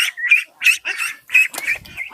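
White Pekin ducks on a large duck farm in West Bengal give a rapid run of loud, close, nasal quacks, several calls overlapping in quick succession.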